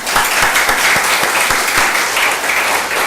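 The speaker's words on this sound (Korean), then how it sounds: "우리 박수 한번." A church congregation claps for a newly married couple during a Korean worship service, with brisk, continuous applause and a few sharper claps standing out.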